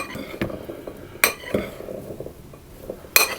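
Blueberries are tossed in flour in a bowl for coconut blueberry muffins, with a few light clinks of utensil against bowl spaced irregularly over soft rustling, close and quiet.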